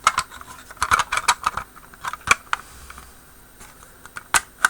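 Sharp plastic clicks and taps sound as parts of a 1/35 scale Trumpeter Obj 199 Ramka BMPT model kit hull are pressed together, coming in scattered bursts of close, small snaps with quiet gaps between them.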